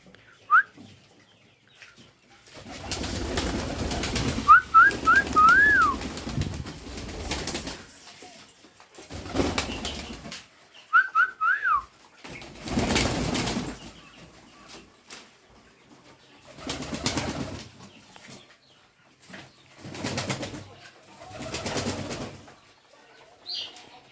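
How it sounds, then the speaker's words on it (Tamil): Pigeons at feeding time coo and flutter in repeated bursts, with thin whistle-like chirps between them, up close and with no talking. "புறாங்களை பார்க்கலாம் பாருங்க."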